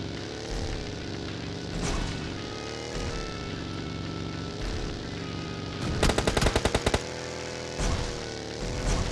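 In the PUBG battle-royale game on the Miramar map, a rapid burst of machine gun fire rings out over a constant droning engine-like background, with a few lone shots before and after the burst.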